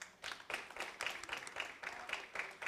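A small crowd claps together at a data conference, giving a modest round of scattered applause that pulses steadily and sounds fairly faint and distant.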